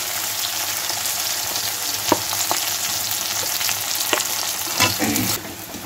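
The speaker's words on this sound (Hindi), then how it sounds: "ऑनियन, इसे लाल होने तक हल्का सा लाल होने तक फ्राई करेंगे।" Onion frying in hot oil until lightly browned gives a continuous close sizzle, broken by a few sharp scrapes and taps of stirring and a louder stir near the end.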